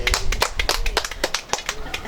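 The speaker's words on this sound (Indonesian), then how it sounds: "Kita tepuk tangan dulu untuk RRI Ambon hari ini." Several people clap hands on a live RRI Ambon radio broadcast, a quick uneven run of sharp claps close by, with voices talking underneath.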